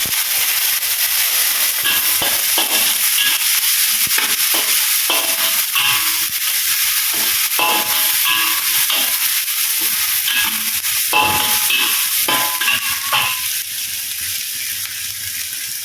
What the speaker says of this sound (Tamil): ஸோ வெங்காயம் கருவேப்பிலை நம்ம மிக்ஸ் பண்ணிடுவோம்